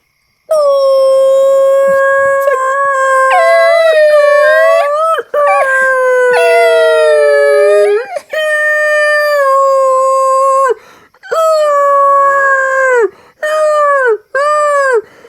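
A voice gives long, wavering, howl-like cries in repeated sustained phrases, rising and falling, imitating a whale call though it sounds much like a howling dog.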